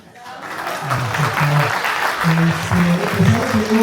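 An audience applauds at a lawyers' convention event in Mexico, a steady rush of clapping that rises quickly and continues while people talk and call out over it.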